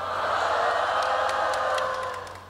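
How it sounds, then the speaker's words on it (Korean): Church congregation at a memorial Mass shouting and cheering together on cue, a sustained crowd roar that swells and then tapers off, with scattered whoops rising above it. "이렇게 들면 함성을 지르는 거예요"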